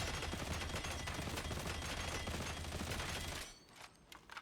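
Autogun in Warhammer 40K: Darktide firing a dense, loud continuous burst of rapid gunfire for about three and a half seconds, then cutting off to quieter scattered impacts.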